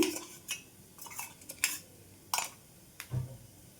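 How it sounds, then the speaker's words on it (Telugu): A spoon stirs ground onion paste in a pan while making onion yogurt chutney, giving a few scattered metallic scrapes and clinks at close range, with no talk. "ఈ మొత్తం కూడా మంచిగా ఒకసారి కలిపేసుకుందాం."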